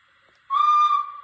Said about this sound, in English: Oh, that's the horn whistle.